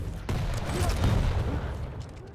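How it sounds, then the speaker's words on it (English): Rapid machine gun fire in a fast Quake-style arena duel game, a rattling burst of shots over a booming backdrop, loud and close for about two seconds before fading. "Oh, the machine gun from Sparty."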